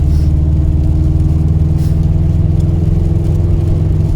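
A 2009 Subaru Impreza WRX STI's 2.5-litre four-cylinder boxer engine, 300 hp, heard from inside the car as a loud, steady low rumble that stays even throughout, with no voices.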